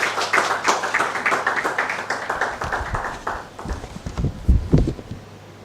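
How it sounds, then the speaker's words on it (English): Scattered applause from the audience at an awards ceremony for an African prestige award, a few clearly separate claps at first, then some low thumps and a little murmur from the room toward the end. "Let's give him a round of applause."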